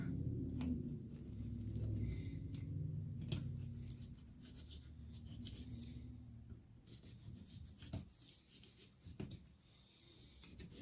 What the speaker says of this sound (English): Just keep cutting along the spine.